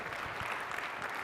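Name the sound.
conference audience applause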